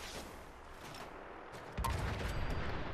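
A modded cryo minigun fires in Fallout 4, a dense rumbling burst of rapid shots that jumps louder partway through and keeps going, loud and close, with no talk over it.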